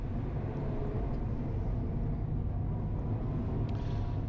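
Race car on the Streets of Willow track, a steady low engine drone and road rumble heard from onboard as it gains speed, continuous and moderately quiet with no voices.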